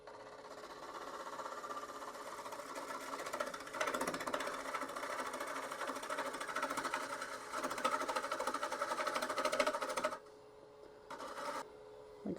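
A gouge cuts into a spinning koa wood bowl on a lathe, giving a steady buzzing scrape with a faint motor whine beneath, easing off near the end with brief quiet gaps.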